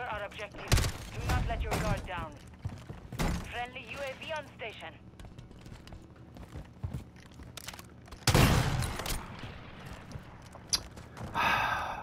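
Gunfire in a first-person shooter video game, with a few sharp, loud shots and bursts spread irregularly between quieter stretches, someone talking intermittently over the game sounds.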